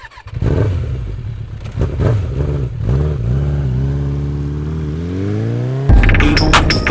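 A motorcycle pulls away and accelerates, its engine revving up through rising pitch in a smooth climb, then a gear change and louder, harsher running; close and loud with no speech.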